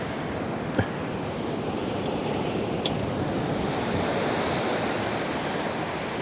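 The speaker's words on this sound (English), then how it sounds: "So the waves don't look like they're crashing too hard today" Gentle ocean waves on a Florida beach at St. Augustine wash in as a steady, even roar of surf, close and continuous, with light wind noise and no speech.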